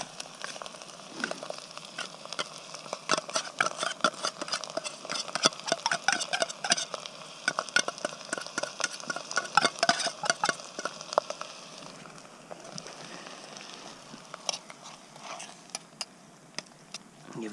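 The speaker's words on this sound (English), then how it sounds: "Give that a nice mix up." Stirring a cheap tuna camping meal in a pan, a steady run of scraping and clinking strokes over a soft sizzle, close and moderately loud with no talking.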